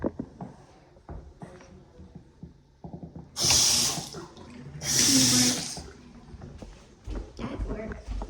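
Water gushes from a household sink faucet in two bursts of a second or so each, loud and close, with voices talking in between.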